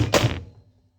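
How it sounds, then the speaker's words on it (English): A cake pan full of batter is banged once on a kitchen counter, giving a loud hollow thunk that rings briefly and fades. "One way to even it out so then your cake is all like one level is to just bang it on the"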